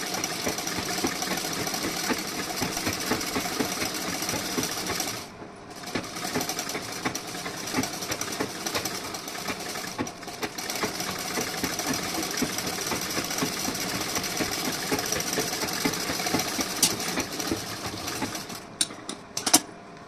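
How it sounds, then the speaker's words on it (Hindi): A sewing machine runs steadily, stitching a seam along a decorative neckline, with a continuous whirring drone that pauses briefly twice and resumes. "अब यहाँ पे मैं एक सिलाई और लगा देती हूँ बगल में"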